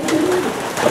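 A racing pigeon stock hen gives a short, close coo, a brief low throaty call standing alone over faint background noise.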